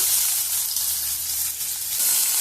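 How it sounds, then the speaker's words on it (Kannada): Onions frying in oil in a pan for a crab curry, a steady close sizzle with a dense hiss that holds without a break and no one talking. "ಇವಾಗ ಒಂದು ಬಾಣಲೆಗೆ ಎಣ್ಣೆ ಹಾಕಿ ಮೊದಲು ಈರುಳ್ಳಿನ ಫ್ರೈ ಮಾಡ್ಕೊಳ್ತಾ ಇದ್ದೀವಿ"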